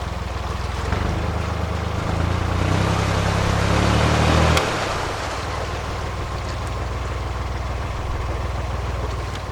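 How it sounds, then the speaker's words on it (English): A narrowboat engine chugs nearby on a canal with a low steady hum that swells then fades as it passes, over wind and lapping water. "That boat was suddenly right behind me."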